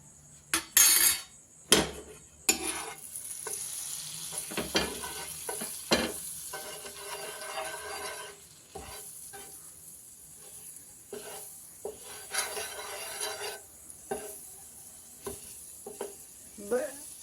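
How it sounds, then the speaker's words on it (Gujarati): Pav buns toast in a pan of butter and pav bhaji masala, giving a soft steady sizzle broken by sharp scraping and clinking of a metal spatula against the pan. "પાવ છે આપણે પાવભાજી મસાલા અને બટરની મિક્સમાં જ હવે શેકવાના છે।"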